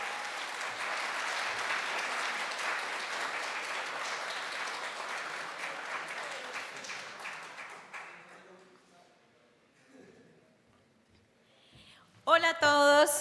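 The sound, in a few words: audience applause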